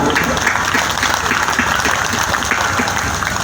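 A large audience at a Devi Bhagwat Katha religious discourse in a village gathering breaks into loud, dense applause, sustained and even throughout with no pause, the clapping close and filling the space.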